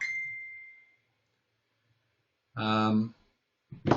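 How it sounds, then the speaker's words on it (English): A mobile phone goes off indoors with a brief tone fading at the start, then after a pause a short loud harmonic ringtone burst, followed by the start of another ring. "there's my phone going"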